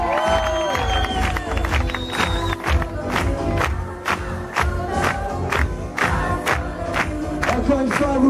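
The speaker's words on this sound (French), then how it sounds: "J'aimerais qu'on applaudisse très fort à notre deuxième DJ, Mr. Simon." Crowd cheering, shouting and applauding for a DJ at a Club Med Kemer party on the 13th of July, with dense, loud sustained noise and music-like tones underneath throughout.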